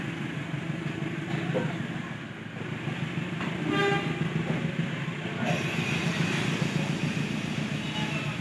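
The Sri Tanjung passenger train sounds its horn while departing Jember station in Indonesia, a steady toot over idling engine rumble and station ambience.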